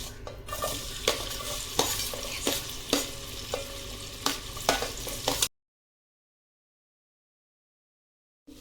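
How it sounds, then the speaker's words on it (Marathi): Onion frying in hot oil as a base for chicken dum biryani, a loud crackling sizzle broken by repeated stirring scrapes and clinks, cutting off abruptly partway through. "फोडणीसाठी तेल टाकले आहे त्यात कांदा टाकू"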